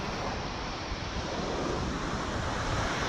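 Steady, loud wind over open sea at Twofold Bay, a continuous broadband rush with surf-like wash and microphone buffeting throughout, no voices.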